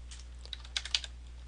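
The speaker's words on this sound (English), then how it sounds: "be sure I'm typing in the right window" Typing on a computer keyboard: a short burst of several light key clicks, close and clear, over a low steady hum.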